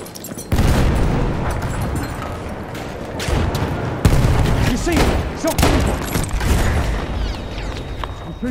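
Video game battle with grenade explosions and gunfire: heavy booms and rapid shots pile into dense, loud, continuous combat noise, with shouted voices over it.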